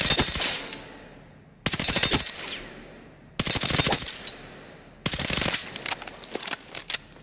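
Rapid automatic gunfire from a weapon in the video game Battlefield 6, four sharp sustained bursts separated by brief silent gaps, loud and close with no talking.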